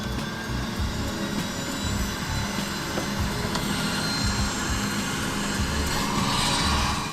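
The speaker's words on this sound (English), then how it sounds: "before we start these Pratt & Whitney turbines" Pratt & Whitney turboprop engines starting and running up on an aircraft before taxi, a loud, steady broadband roar and whine that holds for the whole stretch and swells slightly near the end, with no talk over it.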